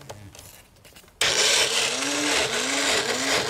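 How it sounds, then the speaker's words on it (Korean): A kitchen blender switches on abruptly about a third of the way in and grinds ingredients with a loud, steady whir and wavering pitch, after quieter background sounds. "덮은 다음에 요거를 이제 갈아요"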